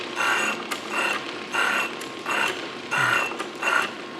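Sellers 6G drill grinder wheel grinding a part in a shop, heard as a steady run of six evenly spaced rasping bursts, each about half a second long, close and fairly loud with a constant hum underneath.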